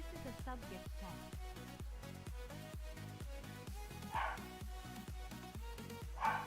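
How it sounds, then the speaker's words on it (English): A dog barks repeatedly in a steady rhythm through a room chat, with a couple of louder, sharper barks near the end. "Sorry about the barking."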